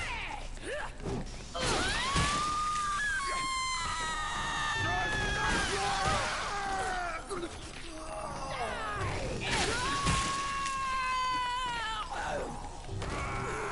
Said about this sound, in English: Oh my god, the screaming.